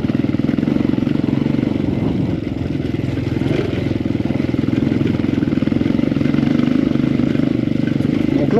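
A motorcycle rides a dusty red laterite dirt track on Mont Mandray near Antsirabe, Madagascar, its mid-pitched engine droning steadily and loudly up close, with a slight rise and fall in the revs and no talk.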